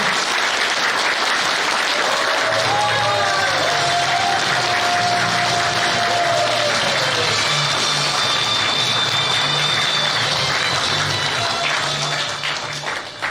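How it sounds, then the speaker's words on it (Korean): A large crowd applauds loudly at a political party's founding convention, dense continuous clapping filling the hall for many seconds, with faint tones and cheers mixed in, tapering slightly at the end. "큰 박수로서 격려해 주시고 감사를 표시해 주시기 바랍니다"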